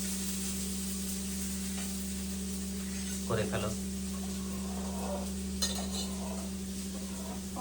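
Potatoes fry in a pan with a low, continuous sizzle and occasional utensil clinks, while a steady hum sits underneath and a voice speaks briefly.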